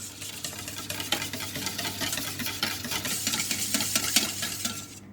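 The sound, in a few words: mixing tart filling with milk and cream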